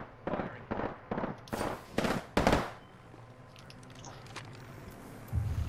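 Gunfire in a video game comes as a string of sharp, loud bursts in quick succession followed by quieter background rumble, with a faint low thump near the end.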